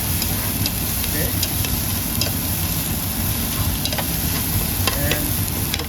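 Onion frying in a pan while being stirred for masoor dal: a steady close sizzle runs throughout, broken by frequent light scraping and clinking strokes of a utensil against the pan.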